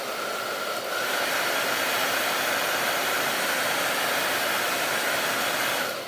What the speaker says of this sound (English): I'm just gonna blow dry it just for a few seconds to get it so it's kind of set.